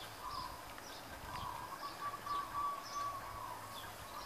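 Zebra doves in Hawaii give soft, repeated trilling coos, faint and somewhat distant, over a steady outdoor background hiss.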